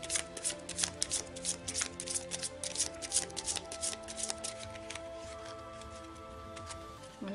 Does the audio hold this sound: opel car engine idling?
no